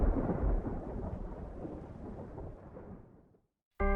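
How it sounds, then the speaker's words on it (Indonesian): A long, deep rumble of thunder rolls loudly, then fades away into silence. "Petir membelah awan, menyinari gunung-gunung yang sunyi."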